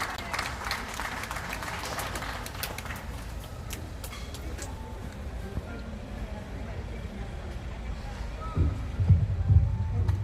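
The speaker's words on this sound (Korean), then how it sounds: "박수로 맞아주시기 바랍니다" An audience applauds to welcome a speaker at a 2022 saxophone ensemble concert in Danyang, producing steady dense clapping that fills the hall throughout, with some low rumble near the end.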